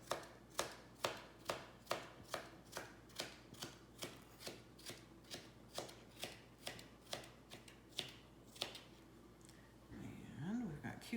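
Knife chopping cucumber and other vegetables into small pieces on a board, a steady run of close, crisp regular strokes about twice a second, faint and under a quiet background, with a voice talking briefly at the end.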